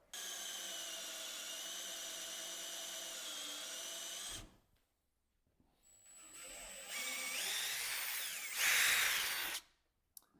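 A power drill bores a hole through wood into scrap plywood, whining steadily for four seconds, pausing, then spinning up again with a louder grinding burst as the bit comes through, close and alone.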